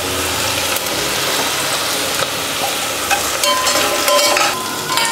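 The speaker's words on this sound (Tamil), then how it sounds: "இப்போ அடுத்து நம்ம இஞ்சி பூண்டு சேர்த்துடலாம்" Ginger and garlic frying with onions in a pan for paneer butter masala, a steady close sizzle with occasional stirring scrapes throughout, no talk.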